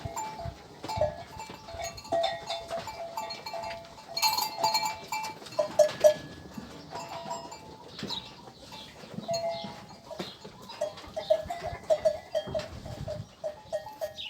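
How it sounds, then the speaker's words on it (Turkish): Lambs graze on a highland summer pasture, their bleats coming in scattered bursts among clinking cowbells and general flock noise, moderately close, with no one speaking. "kuzular karınlarını doyuruyorlar."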